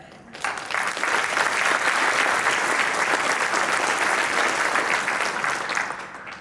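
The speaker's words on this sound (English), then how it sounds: "But just a round of applause for us, for loving one another and continuing to push things forward together." Applause from a community business breakfast crowd swells quickly after a brief pause, then holds as full, dense clapping before tapering slightly at the end.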